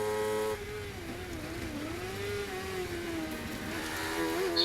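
A 750MC Sports 1000 race car at Croft circuit, heard onboard as the engine buzzes and rises out of a hairpin onto the back straight, a steady high-revving drone with wavering pitch and no voices.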